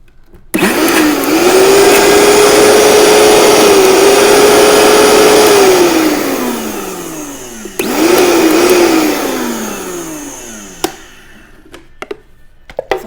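A blender runs loud and close, chopping onion for Puerto Rican sofrito. It spins up with a steady whine that sags as the load thickens. After a brief pause it runs again and winds down, followed by a few light knocks.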